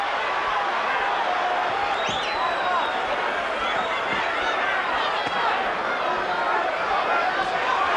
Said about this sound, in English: The crowd reacted to that.